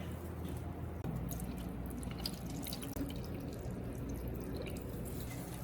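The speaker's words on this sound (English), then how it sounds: "Now I'll pour water into the cilantro jar." Water pours steadily into a glass jar holding cilantro, making a soft, continuous trickling splash that stays quiet and close throughout.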